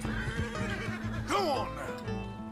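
Horse in the video game Red Dead Redemption II giving a single short whinny midway, rising then falling over a steady background hum, with a person speaking nearby.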